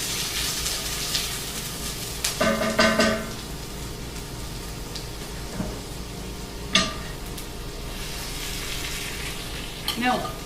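Onions and garlic fry in a pan for an Italian-style spaghetti pie, giving a steady moderate sizzle with a few louder stirring scrapes and clatters along the way, and no talk.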